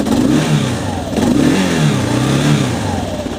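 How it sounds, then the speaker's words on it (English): A Kawasaki KLR motorcycle engine revs up and down from a foot throttle, close and loud. The pitch rises and falls in repeated swells over a steady idle, with no talking. "on the KLR, you've got a foot throttle. You just push down on that."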